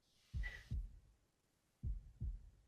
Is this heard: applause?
no